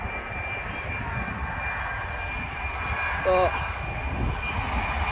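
A TUI airliner at East Midlands Airport produces a steady, loud engine roar and whine that continues throughout, with a person talking briefly over it.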